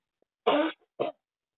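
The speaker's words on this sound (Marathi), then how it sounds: "तुम्हाला खोकला झाला की काय?" Two short throaty coughs, close and alone, the first longer and the second a brief follow-up half a second later.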